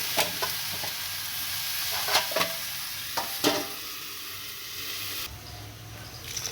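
Tomato and mango chutney cooks in a pan in a village kitchen with a low, steady sizzle and scattered stirring scrapes, heard close and fairly quiet with no talking.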